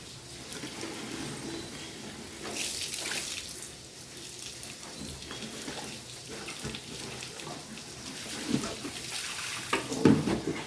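Water runs steadily from a tap while clothes are hand-washed on a rainy day, a continuous splashing rush with occasional sloshes and knocks, loudest bursts near the end.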